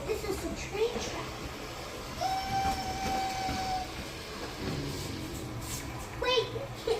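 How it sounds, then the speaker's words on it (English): A cargo train rolls along the track with a steady rumble and clatter of wagons, a long horn sounding in the middle, while a child and an adult talk excitedly nearby. "I can see the train."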